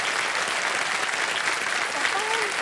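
Studio audience at a televised quiz show applauding warmly, a dense steady clapping throughout, with a faint tonal voice or sound cue briefly audible near the end.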